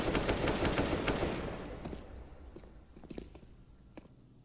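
Counter-Strike match on the Train map, with a burst of AK rifle gunfire that opens loud and then fades into scattered single shots and footsteps.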